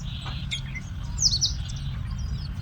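Small sparrows chirp on a village morning, a few sharp, high tweets scattered over a low, constant rumble of outdoor background noise, fairly close and moderately loud, with no talking.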